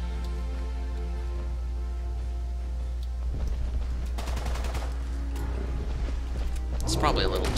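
Modded Walther and Kalashnikov guns fire in Fallout 4, sharp rapid bursts of shots that start partway through and grow denser over a steady low background hum.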